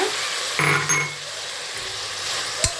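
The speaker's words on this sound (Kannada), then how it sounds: "ನುಗ್ಗೆಕಾಯಿನೂ ಹಾಕೊಂಡು ಫ್ರೈ ಮಾಡ್ಕೊಳ್ತೀನಿ" Tomatoes and drumstick pods fry in a pan for sambar, a steady close sizzle broken by a few stirring scrapes and a single sharp clink of a utensil.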